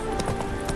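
Hooves of Roach, the horse in the video game Witcher 3, give a quick run of clip-clop steps in under a second, steady and fairly close.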